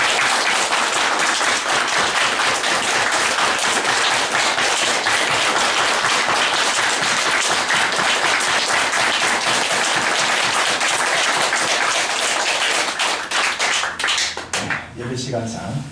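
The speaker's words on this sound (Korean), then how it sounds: "긴 박수" Long, loud standing ovation from a church congregation at a Christmas service, dense continuous clapping with quick rhythmic taps running nearly the whole time before thinning and fading out at the end.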